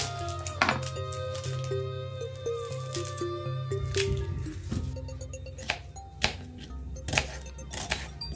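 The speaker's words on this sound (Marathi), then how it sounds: "आपण कांदा चिरून घेऊ" A knife chopping onion on a board for raw banana curry, quiet, irregular taps and crunchy cuts, close and alone with faint clinks.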